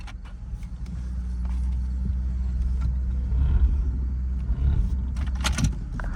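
A Dodge Durango with scary brakes rumbles along in a low, steady engine and road drone from inside the cabin, with scattered clicks and rattles over it.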